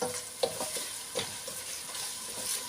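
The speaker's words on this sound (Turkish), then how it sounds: "Şimdi da güzel soteliyoruz" Grated potato with carrot and onion sautéing in a pan for chicken soup, a steady soft sizzle with light stirring scrapes and occasional clicks of a utensil, close and without talk.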